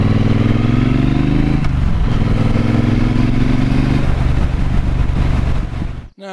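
Triumph motorcycle ridden through Welsh countryside, its engine droning steadily at close range with shifting revs and a gear change partway through, before the sound cuts off abruptly at the end.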